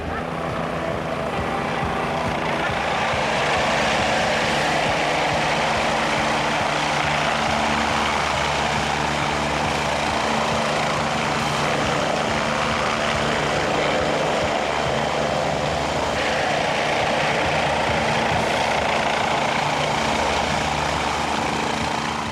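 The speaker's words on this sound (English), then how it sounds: "the sound of those chopper blades is an incredible relief" A rescue helicopter's rotor blades thump and whir continuously with a loud engine drone, sustained and close throughout with no voices.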